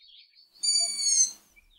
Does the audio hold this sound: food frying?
no